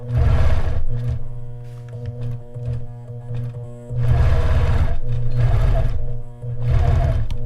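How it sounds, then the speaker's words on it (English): A sewing machine stitches a hex quilt border guided by rulers, its motor whirring loudly in several bursts separated by brief pauses, close and alone. "stitch 1/2 inch away, stop with your needle 1/2 inch away."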